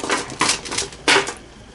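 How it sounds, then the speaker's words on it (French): A few light plastic clatters land in quick bursts as dice are dropped into a bag for a Zombie Dice game, small hard pieces tumbling together, close and fairly quiet with pauses between the drops. "On met tous les dés dans un sac."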